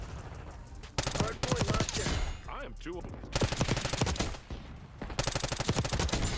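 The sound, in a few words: gunfire from a C9 in the video game Black Ops 6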